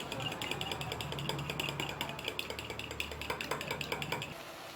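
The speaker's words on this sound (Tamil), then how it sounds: "2 முட்டையை உடச்சி ஊற்றிருக்கேன். இப்போ இதை லைட்டாக அடிச்சிடலாம்." Two beaten eggs are whisked briskly in a bowl, with a steady run of quick metallic clicks and scrapes close up, for a Tamil ridge gourd egg dish.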